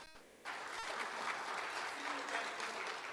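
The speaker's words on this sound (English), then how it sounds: "Let's give him a round of applause." Applause at a university opening conference in an auditorium, a steady wash of clapping from the audience that starts abruptly and holds at moderate loudness throughout.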